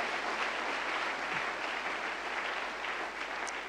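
A church congregation applauding: steady, dense clapping that fills the whole stretch at an even level, close and loud with no pauses.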